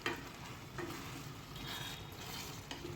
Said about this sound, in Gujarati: હવે આપણે બધું સરસ મિક્સ કરી લઈશું